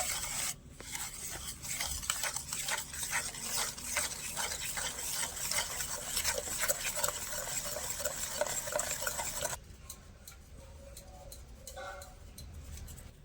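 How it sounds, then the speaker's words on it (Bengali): Rice batter mixed with powdered sugar and milk powder is whisked in a bowl with fast, continuous scraping and splashing strokes, close up. The whisking stops abruptly near the end, leaving a few soft clinks. "এবারে ভালো করে একটা হুইক্স দিয়ে মিশিয়ে নেবো"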